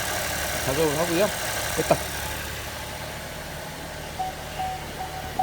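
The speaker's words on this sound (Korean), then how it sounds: "시동을 10초만 제가 켜겠습니다" A Chevrolet Trax Crossover engine idles during a DIY oil change with 5W-30 oil, oil filter and air cleaner, giving a steady close low hum while someone talks over it.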